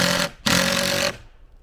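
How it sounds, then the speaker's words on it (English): A power drill drives screws into wood in a storage build, two loud, close whirring bursts separated by a brief pause, then tapering off. "Kind of sinking the screws in a little bit because I'm going to sand over all this"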